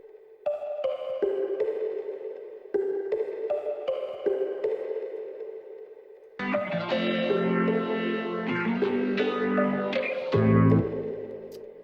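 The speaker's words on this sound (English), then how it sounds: "added this little pluck sound" A synth pluck from Arcade, resampled and tweaked, plays short repeated melodic notes with echo, then a denser, brighter distorted layer joins for the second half, with no voices.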